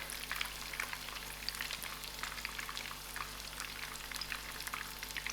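Masala-coated fish fries in hot oil with a dense, steady crackling sizzle that holds throughout, close and moderately quiet, with no voices.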